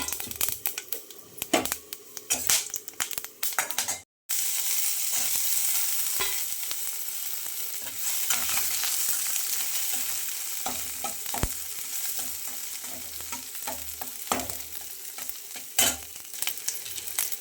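Whole spices (black pepper, cinnamon, clove, cardamom, mace and stone flower) frying in a pan for chicken curry, a steady crackling sizzle with scattered clinks and scrapes of stirring; after one brief gap the frying continues.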